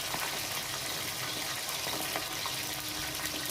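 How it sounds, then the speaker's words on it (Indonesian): Frozen potato french fries fry in hot oil with a steady, dense crackling sizzle that stays loud and even throughout. "Kalau untuk goreng french fries ini kan katanya harus diaduk-aduk"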